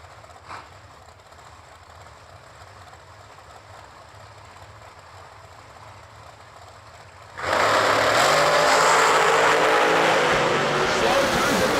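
At a drag strip event, a low rumbling backdrop gives way abruptly to a loud roaring surge as a blown dragster and a hot rod launch and race down the strip, with an announcer's voice over the early part.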